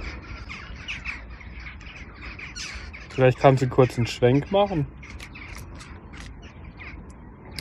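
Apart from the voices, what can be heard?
jackdaws calling while flying overhead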